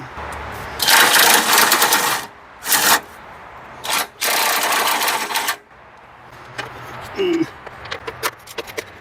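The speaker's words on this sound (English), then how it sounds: "I'm just going to loosen them, and then I'll get them with my impact." An impact wrench loosens bolts on a 2006 Honda Element, firing three loud, close rattling bursts, followed by lighter metallic clinks and clicks as the socket and bolts are handled.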